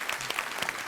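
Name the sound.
studio audience applause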